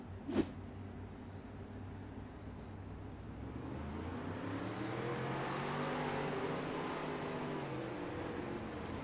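A race car engine rises in pitch from onboard as it accelerates after a short bang, its revving harmonics climbing over steady road and wind noise, loud and close.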